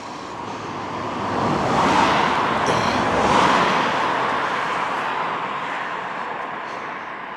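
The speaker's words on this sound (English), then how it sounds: "2 cars coming, get off the road" A couple of cars pass along a country road beside grass verges, a broad whooshing swell that builds, peaks and slowly fades, close by and loud with no voices.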